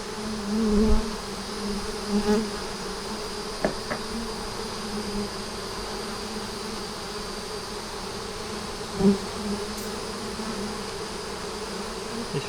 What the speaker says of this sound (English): Wish y'all could see all the bees around the camera.